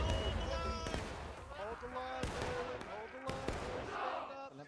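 Artillery fire in the Civil War strategy game Ghosts of Antietam, several sharp booms scattered across the stretch under steady background clatter and game music, with a voice talking over it.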